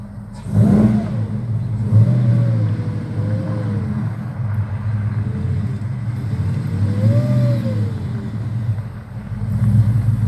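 A Chevrolet pickup truck engine revs up and down several times in steady rising and falling swells, loud and close, with a constant rumbling idle underneath.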